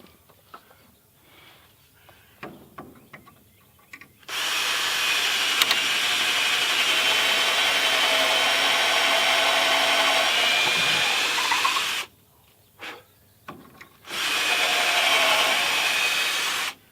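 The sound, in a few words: power drill driving lag bolts into a wooden truss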